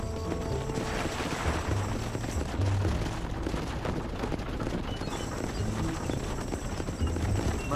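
Horses gallop in a rapid, steady clip-clop as riders set off together in Red Dead Redemption, a continuous drumming of hooves with occasional distant gunfire mixed into the scene.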